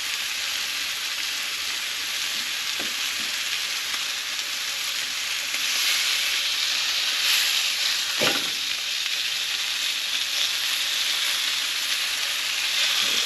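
Steaks fry on a Camp Chef Deluxe camp stove with a dense, steady sizzle that grows slightly louder midway, marked by a couple of faint clicks, and no talking.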